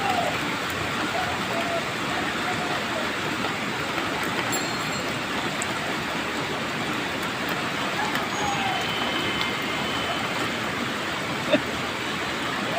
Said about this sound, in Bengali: হ্যাঁ বৃষ্টি ভিডিও করতেছি।